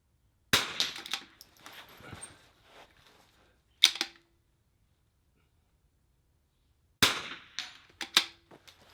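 Sharp rifle reports from a bipod-supported rimfire rifle at an NRL22 shooting match, three separate shots spaced several seconds apart, each a crisp crack with brief trailing clatter, moderately loud against quiet surroundings.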